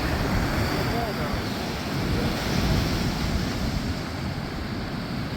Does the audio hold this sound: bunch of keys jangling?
no